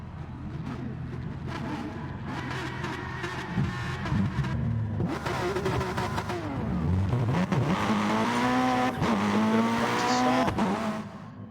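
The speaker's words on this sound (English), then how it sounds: "And chaos off the line. Everyone doing donuts." Gran Turismo Gr3 race cars spinning donuts off the line at a race start at Catalunya, a loud chaotic mix of revving engines and squealing, skidding tyres that swells and stays dense throughout.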